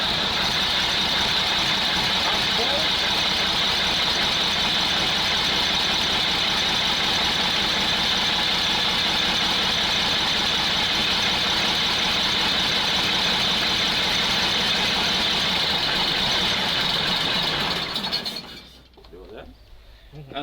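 A Praga V3S 6x6 truck engine runs steadily and loudly at close range for most of the time, a dense mechanical roar that cuts off abruptly near the end. A brief voice comes in under it.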